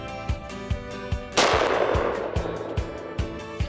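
A single sharp rifle shot cracks out while predator hunting in Alaska, loud and close, with a broad echoing tail that decays over a couple of seconds against a faint rhythmic thumping backdrop.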